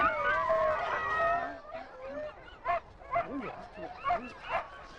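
Sled dogs in an Inuit settlement howl in long wavering tones, then break into a run of sharp, separate barks and yips, close by and loud, with no talk over them.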